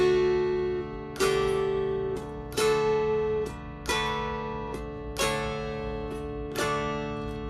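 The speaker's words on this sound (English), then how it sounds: "you'll hear the note change as I slide across." A dulcimer note rings and shifts pitch as a finger slides along the fretboard, several plucked notes in a steady sequence, each ringing out and fading, close and clear with no talk.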